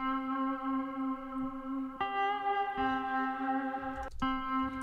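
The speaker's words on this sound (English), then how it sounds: "This is just one of the guitar sounds." Synthesized MIDI guitar patch from Logic Pro playing sustained, heavily effected tones with echo and chorus, a few note changes and a brief sharp transient near the end, no talking.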